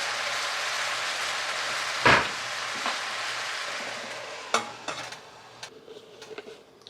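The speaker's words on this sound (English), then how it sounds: "I'm going to continue to stir it" Fried rice made from leftover KFC chicken with a splash of bone broth, sizzling steadily in a skillet, with occasional scrapes and knocks of a heavy metal spoon stirring it, close and moderately loud.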